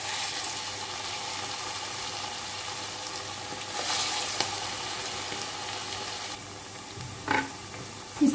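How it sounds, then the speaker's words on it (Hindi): Small moong dal pakoras fry in hot oil over a low-to-medium flame, giving a steady close hiss of bubbling oil with a few brief scrapes and clinks near the end, no talk. "तेल गरम हो चुका है, अब यहाँ पर हम छोटी छोटी इस तरह बड़ी की तरह डालेंगे।"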